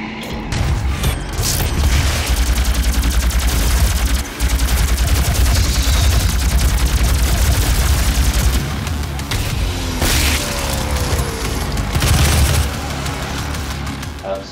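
Assault rifle fire in the Doom video game, sustained bursts of rapid shots with booming impacts and mechanical game sounds that pause briefly now and then.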